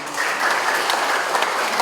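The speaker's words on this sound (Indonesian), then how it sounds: "tepuk tangan" A short burst of steady applause from an audience at a government coordination meeting for district and village heads, dense and even, with no voices over it.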